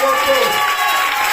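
A church congregation cheering and acclaiming during a prayer service, a loud, dense burst of mixed shouting voices over about a second and a half.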